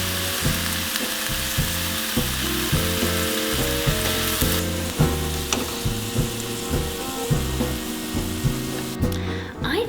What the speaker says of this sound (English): I'm just going to take my meat out of the sausage casing and brown it with the onions.